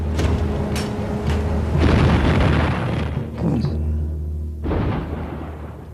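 Heavy naval gunfire from three British cruisers of the Royal Navy opening fire at sea, heard as repeated loud booming blasts with a sustained rumbling roar between them and a deep low drone throughout.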